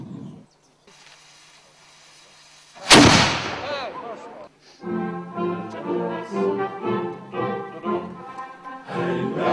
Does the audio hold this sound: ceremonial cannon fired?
yes